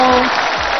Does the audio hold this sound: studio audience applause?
yes